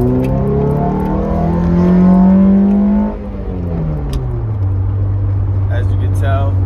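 A 2023 Toyota Scion tC engine with intake and axle-back exhaust revs up and holds a high whine, then drops in pitch as the driver shifts, settling into a steady drone while driving.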